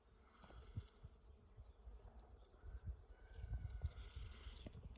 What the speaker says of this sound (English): And there's bees all in here.